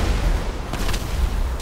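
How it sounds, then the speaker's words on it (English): Distant explosions booming in a car chase video game, a dense rumbling barrage of low blasts rolling on continuously with no talking. "I hear explosions going off in the distance."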